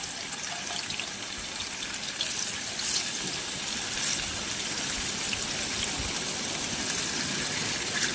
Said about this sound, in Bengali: এখানে আমি পনিরগুলো এক এক করে ভেজে নেবো